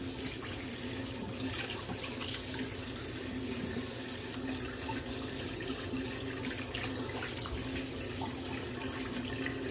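A tap runs cold water to rinse a shaving razor, a steady, close, continuous splashing stream into a sink that holds an even level from start to finish with no voices.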